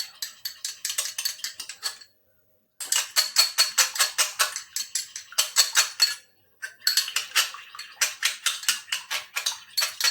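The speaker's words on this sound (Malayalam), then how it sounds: "അതിന് ശേഷം നന്നായിട്ട് നമ്മൾ ഇളക്കി കൊടുക്കണം." A spoon beats a creamy face pack mixture in a bowl, giving fast rhythmic clinking and scraping strokes in three bursts with brief pauses between them, close and crisp, with no voices.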